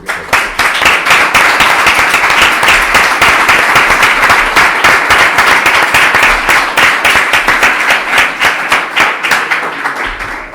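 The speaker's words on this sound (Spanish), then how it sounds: "Yo por mi parte le voy a dar un nuevo aplauso y las gracias otra vez." Sustained, loud applause from an audience at a talk on concentration camps and slave labour, dense clapping that carries on for about ten seconds and thins slightly at the end.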